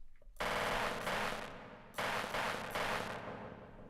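Programmed drum machine pedal pattern run through a delay effect: loud, dense hits with washy repeats that swell, fade and restart in bursts, heard alone without talk.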